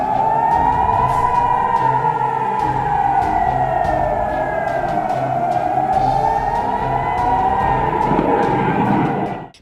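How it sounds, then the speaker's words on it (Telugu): Army warning siren sounding to alert border villages near Jammu, a loud continuous wailing tone rising and falling slowly, heard alone and steady throughout before cutting off at the end. "సరిహద్దు గ్రామాల ప్రజలను సైరన్లతో భారత సైన్యం అప్రమత్తం చేసింది"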